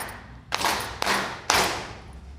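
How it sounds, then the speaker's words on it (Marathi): Three bursts of group applause, each starting sharply and fading, spaced about half a second apart. "ताईंच्या साईडवर 3 वेळा आपण त्यांचं स्वागत करूया टाळ्या वाजून"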